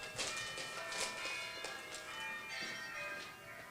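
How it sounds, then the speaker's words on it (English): Bells ring in a faint, continuous wash of overlapping metallic tones with scattered brighter strikes, heard at a distance with no talking. "It's lovely, actually, to get some bells going along with the slides."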